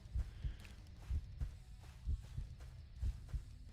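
Heartbeat effect in the survival video game Novus Inceptio: steady, low, muffled double thumps repeating about once a second, close and fairly soft, with no talking over it.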